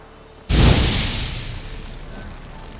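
Igni fire sign cast in The Witcher 3, a sudden loud whooshing burst of flame with a deep thump that flares up and then slowly trails off into a fading roar.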